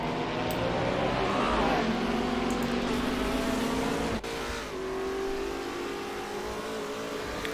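Sim racing touring cars at Calder Park roar loudly and continuously, one engine climbing in pitch through a gear change and then settling into a sustained drone, with a brief dip in the noise partway through.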